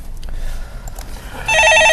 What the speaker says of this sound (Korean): 자, 전화 받아보겠습니다.